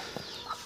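A brooding hen sitting on ducklings gives two short, soft clucks, close by and fairly quiet.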